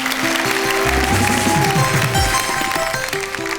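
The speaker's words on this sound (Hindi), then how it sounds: "ये लोग और ये लोग खड़े होकर आपको तालियों से स्वागत करते हैं" A standing audience at a comic poetry show applauds the poet Kunwar Bechain, clapping under sustained music with a sliding bass line, fairly loud and continuous.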